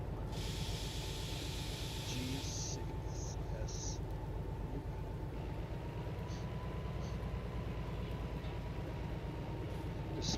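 A train in the Derail Valley game rolls along the rails with a steady low rumble and rhythmic wheel clatter, joined by a few brief hissing bursts, heard close and continuous.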